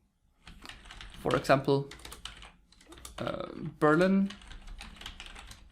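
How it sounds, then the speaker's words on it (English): Typing on a computer keyboard while entering data into an Excel spreadsheet, a string of light clicking keystrokes beneath a man's speech, with short clustered bursts of taps between spoken phrases. "I could start with typing here location."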